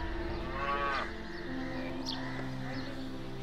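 Cattle in a cowshed, one cow giving a single drawn-out low moo near the start, close by, with faint bird chirps and steady low background hum afterward.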